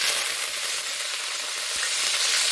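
Mustard seeds, curry leaves, tomato and onion frying in hot oil for fish kulambu, a dense continuous sizzle with faint crackles, close and steady.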